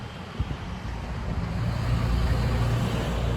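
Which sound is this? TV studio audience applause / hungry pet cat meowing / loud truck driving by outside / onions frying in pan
loud truck driving by outside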